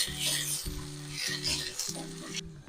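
Dried red chillies fry in hot oil for coconut chutney, giving a steady bright sizzle, with a utensil clinking and stirring the pan at a few regular points.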